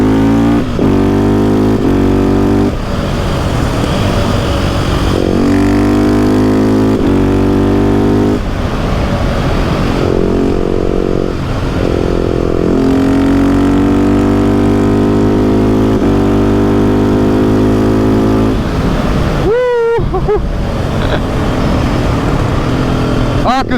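A 2019 KTM 690 SMC R motorcycle with a quickshifter revs hard and climbs through gears in repeated rising pulls, each shift a quick break in the loud, close engine note.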